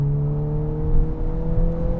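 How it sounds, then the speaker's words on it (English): A VW Golf R with a turbocharged inline-four and a Milltek exhaust accelerates with a loud, steady, deep engine drone and a smooth whirring tone that holds nearly even throughout, heard from inside the car. "Lots of pops and crackles. Here we have a Miltech exhaust."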